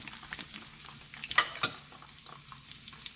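Tomatoes and vegetables fry with eggs in a pan, giving a faint sizzle with a few short stirring and utensil scrapes, and no talk.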